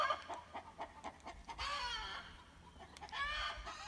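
A rooster crows twice over a steady run of hen clucks, the calls close and fairly loud against a low background hum.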